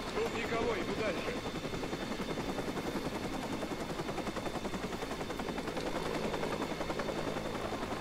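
A helicopter flies overhead in the video game Watch Dogs, its dense rotor chop steady and loud throughout, with bursts resembling gunfire mixed into the game soundscape.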